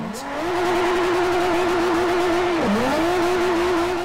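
Nissan Silvia S14 drift build sliding through hairpins at Fujimi in Forza Motorsport 4, its engine holding a steady high, buzzing drone with a brief dip as revs drop before climbing again, loud and continuous.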